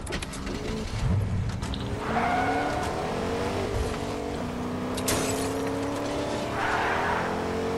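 A car drives in Fortnite, its engine droning steadily throughout with rising pitch sweeps as it accelerates, plus brief tire squeals and skids over a busy game backdrop.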